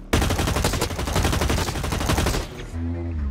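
Sustained rapid automatic gunfire in Blacklight Retribution, loud and close, a continuous rattling burst of shots lasting over two seconds before cutting off into quieter game sounds.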